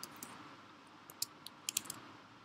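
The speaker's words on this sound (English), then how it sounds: "I'll just type wallpaper" Computer keyboard typing while entering a search term, a few faint, scattered key clicks in a quiet room with no talking.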